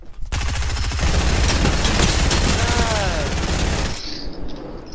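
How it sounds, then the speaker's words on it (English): SMG fire in a video game comes as a dense, loud burst of rapid shots lasting about four seconds, then cuts off abruptly into quieter game sound. "I hear the SMG going crazy"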